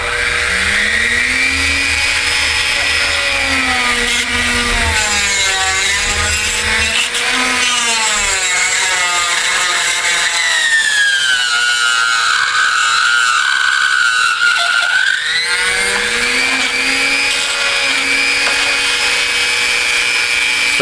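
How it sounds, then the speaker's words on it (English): A Dremel on a flex shaft with a carbide bit grinds a Puch E50 moped clutch, making a loud, close high-pitched whine whose pitch rises and falls as the load changes, continuous throughout. "carbide bit in a Dremel on the flex shaft makes things a little bit easier"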